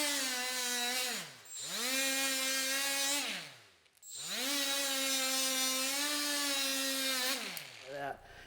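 Die grinder fitted with a buffing pad, cleaning crud off damaged Corvette brake parts: two long whining runs, each spinning up, holding a steady high tone, then winding down, followed by a brief third burst, close and loud.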